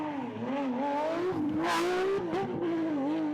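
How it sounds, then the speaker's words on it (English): A Porsche rally car on a gravel stage of a Belgian rally championship round roars past at speed, its engine note rising and dipping through gear changes, loud and close with a rushing burst as it passes. "And here's Patrick Snijers again with the Porsche."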